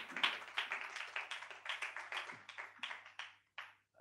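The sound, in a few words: congregation clapping loudly in church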